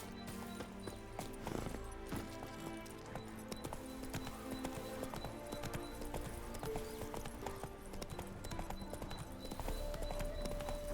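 Roach the horse gallops in the video game The Witcher 3, a steady rapid clip-clop of hooves running continuously under game music and ambience, with a brief whinny.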